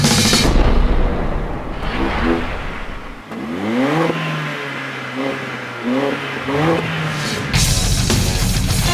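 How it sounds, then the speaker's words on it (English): Mercedes-Benz CLA 45 AMG turbo engine revving hard under acceleration, with rising gear-by-gear engine sweeps and bursts of wastegate hiss between throttle lifts, loud and close with no talk. "every time you put your foot down hard and get off it, you can hear the hiss of the wastegate"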